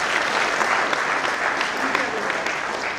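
Audience applause at a Google Student Ambassador event in India, a continuous, even burst of many hands clapping throughout.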